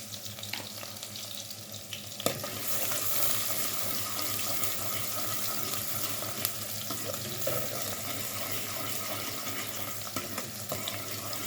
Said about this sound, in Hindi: अब इसमें हम ये प्याज डाल रहे हैं और इसको हल्का ब्राउन होने देंगे।